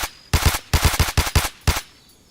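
Rapid gunfire in the Arma 3 military simulation game, several sharp loud close bursts of automatic shots in uneven clusters, then a final single burst and fading tail, no talking.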